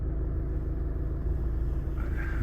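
A Honda Civic 1.6 i-DTEC diesel sedan idles with a steady low rumble, even and continuous throughout, heard from nearby.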